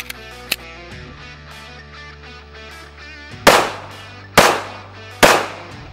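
Three loud .45 ACP pistol shots firing 230 grain full metal jacket rounds at a bulletproof vest test target, spaced about a second apart with sharp reports and short decays, after quieter clatter at the start.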